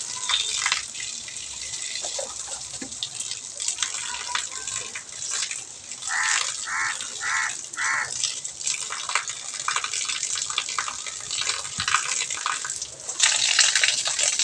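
Water runs and splashes steadily during an outdoor bath on a rooftop terrace, a continuous close gushing with a few louder splash bursts, alone without talk.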